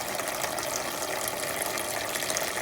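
Coolant drains from the drain plug of a 1966 Ford Thunderbird, a steady close gushing splash of liquid pouring out without a break.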